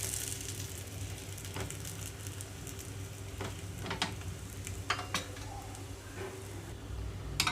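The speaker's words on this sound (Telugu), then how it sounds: "లో ఫ్లేమ్లో మీడియం ఫ్లేమ్లో ఉంచి మాత్రమే ఇక్కడ మనం ఈ రొట్టెని కాల్చుకోవాలి" Ragi roti cooks on a pan over a medium flame with a faint, soft sizzle against a low steady hum, broken by a few light clicks and scrapes from handling the pan.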